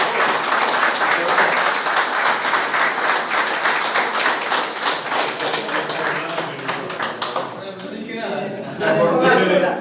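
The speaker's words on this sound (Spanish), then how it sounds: "antes un aplauso" Sustained audience applause after a church conference talk, dense steady clapping from a crowd that carries on for several seconds, dips briefly near the end, then swells again.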